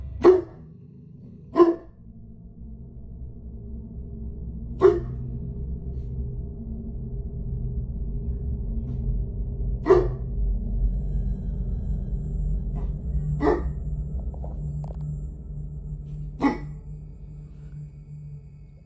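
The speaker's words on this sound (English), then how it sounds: "he started barking furiously, the kind of bark that only happens when an animal senses something it can't understand" A dog barks at night: about six sharp, isolated barks spaced several seconds apart over a low, steady background hum.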